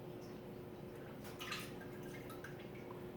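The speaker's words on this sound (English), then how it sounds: "I put the funnel over the pot and then fill up this way." Sticky homemade Kahlua, thick with sugar, is poured slowly through a funnel into a pot, a faint, soft trickle and drip under a steady background hiss.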